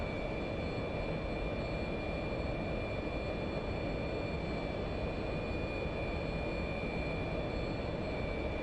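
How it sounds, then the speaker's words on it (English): A MiG-17 jet in the DCS flight simulator, a constant droning engine roar with a steady whine overlaid and a rough buzzing shake underneath, unbroken and even in loudness throughout. "Listen to that airplane, listen for that shake."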